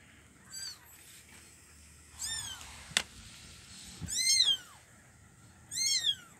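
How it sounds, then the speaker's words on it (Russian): A very small kitten meows about four times, high and plaintive with gaps between calls, fairly faint against a quiet background, with one sharp knock in between. "Это кот. Остался только кот."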